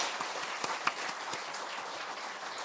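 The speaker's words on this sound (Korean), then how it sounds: "우리 박수로 환영해 주시기 바랍니다" Congregation clapping during a Sunday church service to welcome a new member, a brief, fairly faint spell of scattered hand claps with no talk over it.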